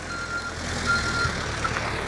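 Steady high reversing beeps from a truck hauling fill at a building construction site, ringing over a low diesel engine rumble and broad mechanical noise, fairly close and continuous.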